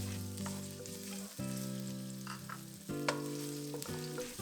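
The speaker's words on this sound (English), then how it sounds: "Once the oil is hot, add the minced garlic and stir fry until fragrance." Minced garlic stir-fries in hot cooking oil in a wok for Thai pad see ew, a loud, continuous sizzle with brief scraping stirs and sharp clinks near the end.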